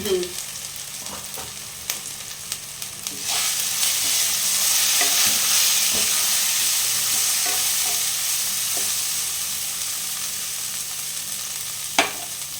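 Ground cumin and turmeric frying in hot oil for a bottle gourd and chana dal dish: a steady close sizzle with scraping stirs and a few sharp utensil clicks, no talking.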